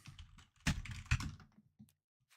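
Typing on a computer keyboard in a dark room, a short burst of clustered key clacks with a couple of heavier thunks, then a few isolated taps fading into quiet.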